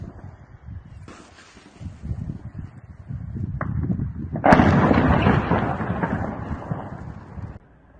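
Explosions from a drone attack on a military base in Chechnya, deep rumbling booms building to a loud blast around the middle, followed by a long rolling roar that fades out.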